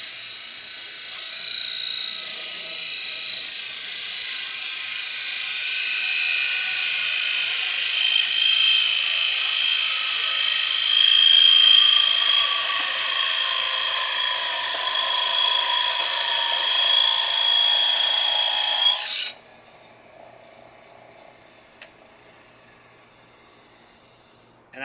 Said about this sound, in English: one of the last things we do is part this off, because that's the last step on the lathe I want to do